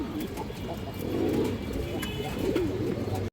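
Pigeons, including a large female, coo softly in a low, throaty rhythm, a few close calls repeating over steady background noise.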